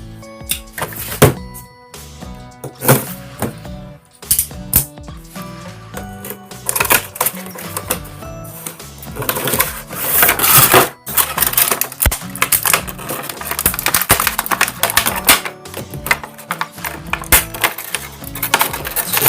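Plastic packaging of a Zarana action figure being torn and opened, with dense crinkling, snapping and rustling bursts close to the mic, steady throughout with no talking.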